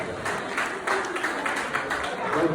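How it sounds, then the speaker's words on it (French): Applause breaks out for a student named Gassama at a national Génie en herbe quiz final at ENO Guediawaye, with clapping mixed with crowd noise and talk over it. "Maximum d'applaudissements pour Gassama."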